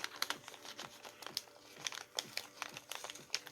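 A watercolour Christmas advent calendar box being opened gently, with quiet close crinkling and rustling of paper and cardboard in small irregular bursts.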